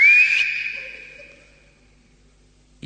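A person gives a single sustained whistle, loud and close at first, slowly fading away into near silence before a brief noise at the end.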